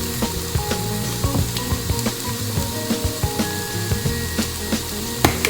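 Seasoned chicken and shrimp frying in a pan, a soft sizzle with scattered small pops and scraping clicks close by, no voices.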